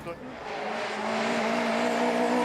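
A rally car engine drones steadily with a rising tone as the driver left-foot brakes into a corner, loud and close throughout, at the 2013 ERC rally in Latvia.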